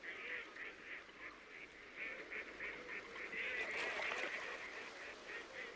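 Wintering ducks, common pochards among them, call in a rapid series of honking, quacking notes from a flock on a wetland, steady and moderately distant, with no talking.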